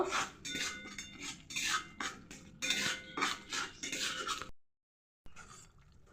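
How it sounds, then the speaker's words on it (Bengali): A metal spoon stirring and scraping chilli powder and salt frying in a pan, in quick repeated clinks and scrapes, close and fairly loud, cutting off briefly before resuming. "লঙ্কা গুঁড়ো লবণ স্বাদ মতন ভালো করে কষে নেব"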